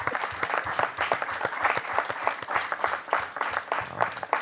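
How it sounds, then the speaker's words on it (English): An audience at a school board meeting claps for the students' parents and guardians; brisk, uneven hand claps from a modest crowd, close and sustained with no talk. "I think we should clap for them as well."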